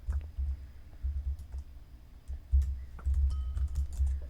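Rapid clicking on a computer mouse during fast gameplay, bursts of close, quick clicks with brief pauses between runs, with no talk.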